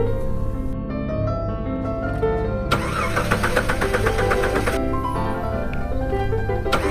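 A car engine in a Roblox horror game cranks and revs steadily without catching, a loud mid-pitched engine drone running throughout with a brief higher burst partway through.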